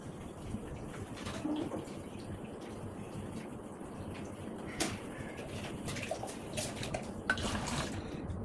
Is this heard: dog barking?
no